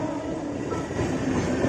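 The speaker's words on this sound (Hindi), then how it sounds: "local trains are the best," A Mumbai local train rumbles steadily and close by, a dense rolling roar with faint rhythmic clatter throughout, no voices.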